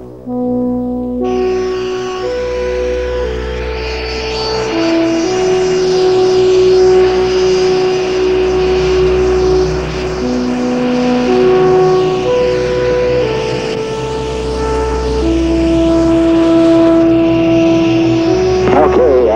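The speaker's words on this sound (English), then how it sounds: "Boeing 757, proceed on the runway" A Boeing 757 on the runway runs its jet engines in a steady loud whine and rumble, with tonal hum layered over it and radio-style talk from air traffic control running throughout.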